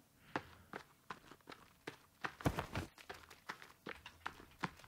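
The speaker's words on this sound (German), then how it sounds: "Ich höre nur einen Hasen rennen." A rabbit runs through the forest in the survival video game The Forest, heard as a quick, uneven patter of soft footfalls on the ground, fairly faint and close.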